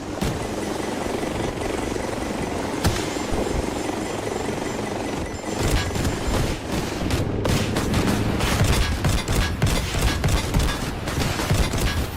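Rapid bursts of gunfire in the Delta Force video game crackle over the steady drone of a helicopter, starting sparse and building into dense, loud volleys during the second half, with no talking.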